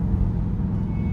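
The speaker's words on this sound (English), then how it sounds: "Slowing down, downshift to 5th." A 2021 Dodge Durango R/T engine downshifting via paddle shifters while slowing, a steady low rumbling drone with a slight rise in revs, close and continuous over a brief moment.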